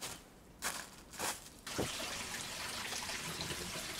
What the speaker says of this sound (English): Man, that's some fresh water coming right out of the rock.